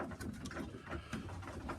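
A pigeon coos softly in a few low, rolling calls nearby, set against a faint steady background in a bird enclosure with feed pots.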